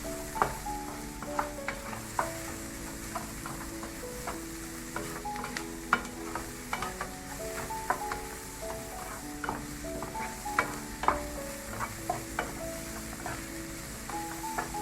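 Bihun noodles sizzle quietly while frying as a wooden spoon stirs and scrapes them, soft scattered clicks over a steady hiss, fairly faint and with no talk.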